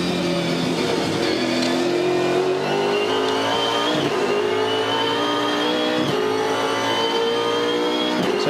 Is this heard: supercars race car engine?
yes